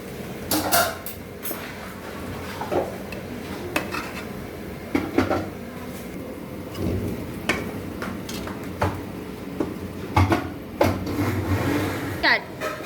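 Half-fried prawns being moved and stirred in a pan while cooking Kerala-style prawn roast: scattered metallic clinks and scrapes of utensil on pan, with faint sizzling and a voice talking.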